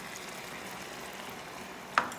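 Pasta cooking water is added to a pan for pasta and peas, giving a soft, steady sizzling hiss, with a brief sharper splash near the end; no one speaks.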